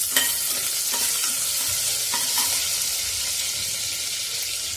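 Curry leaves frying in hot oil with mustard seeds and cumin for a village-style chuka varan, a loud, continuous close sizzle with a few sharp crackles near the start, no speech.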